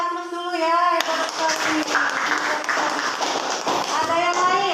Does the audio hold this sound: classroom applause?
yes